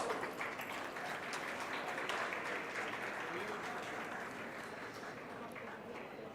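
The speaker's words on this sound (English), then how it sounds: "Please join me in welcoming them all with a huge round of applause." Audience at a national management convention applauding to welcome panelists: steady, distant wash of clapping throughout, fairly faint, with a murmur of voices underneath.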